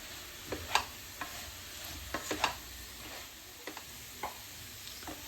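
Chili powder frying in oil for a nutmeg pickle, a soft sizzle broken by several scraping stirs of a spoon in the pan, fairly quiet and close, with no speech.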